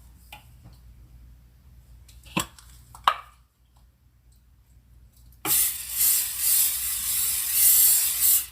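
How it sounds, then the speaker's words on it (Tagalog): Butter-flavored non-stick cooking spray hissing steadily onto a pan for about three seconds, a bright continuous spray after a few soft kitchen clicks and taps. "gamitan ko siya ng butter flavored non-stick cooking spray para hindi siya didikit dito."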